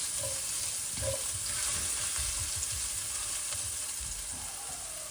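Steady, close sizzling from food sauteed in a hot pan, with soft stirring scrapes and no talk.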